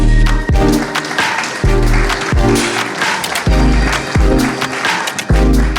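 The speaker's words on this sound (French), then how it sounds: "Pierre-Marie Laurent et Thomas Raymond sous vos applaudissements." Conference audience applauding as panelists are called up, a dense sustained burst of clapping with a few rhythmic thumps underneath, loud and close throughout.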